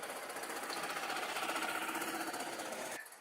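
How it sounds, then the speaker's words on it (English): Two-seater golf cart at a summer camp driving past, a continuous rapid mechanical rattle and hum, fairly faint and steady before trailing off at the end. "That's a 2-seater golf cart traveling past us as Emily and Ryan head off to do some work"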